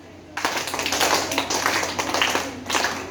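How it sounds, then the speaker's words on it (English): Group hand claps during a warm-up action song, a quick run of sharp, fairly close claps repeating steadily for a few seconds after a quiet start. "Claps."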